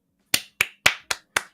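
Five sharp, close hand claps from one person seated at a desk, evenly spaced about a quarter second apart, each a crisp isolated crack in an otherwise quiet room.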